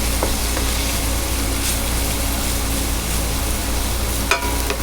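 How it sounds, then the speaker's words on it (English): Barramundi fillets frying in a pan with tomatoes nearby: a steady, close hiss and sizzle of hot oil runs throughout, with a few soft clinks of stirring and a sharp tap near the end. "I'm gonna go ahead and just stir these up for about 2 more minutes"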